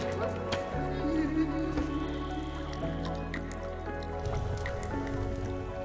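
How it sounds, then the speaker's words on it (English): Water drips inside a cave in a video game, making a subtle patter of small drops over a steady, dense background of tonal sound and low hum. "in this cave, you can see these really nice little dripping rain effect in the cave"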